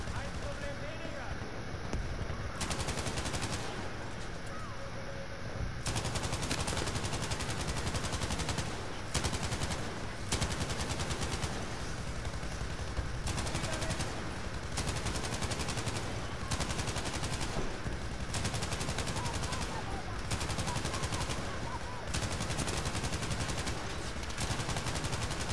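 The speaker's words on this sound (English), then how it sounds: "I'm on this machine gun up here." A mounted machine gun fires in Battlefield V, loud and close, in long sustained bursts broken by brief pauses that continue throughout.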